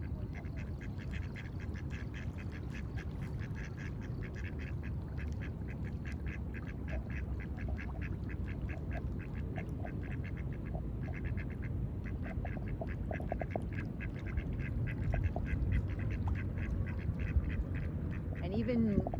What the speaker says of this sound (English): even the ducks in nature are swimming upstream today